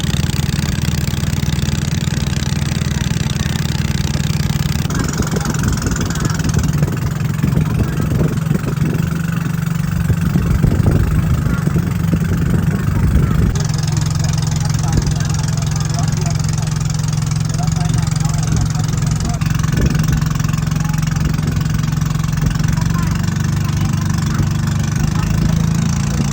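A boat engine runs steadily at a low, even drone as passengers board and the boat sets off on a countryside trip, with voices talking over it and some clatter and movement in the middle stretch.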